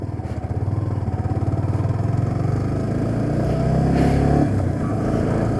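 A Yamaha R15 V3 motorcycle engine, freshly changed to Liqui Moly oil, runs steadily at close range with a low pulsing idle that swells slightly toward the end, with no talking.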